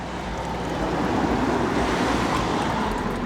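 Water pours through a cut-down Coke bottle used as a funnel into a Ford Grand C-MAX, a steady close splashing rush that holds evenly for a few seconds with no talking.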